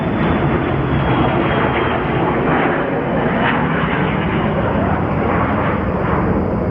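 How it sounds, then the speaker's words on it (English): A jet aircraft passes over the Palm Springs Air Museum during a Memorial Day ceremony, its engine a loud, steady, broad roar that fills the whole stretch without fading. "Let that jet go by."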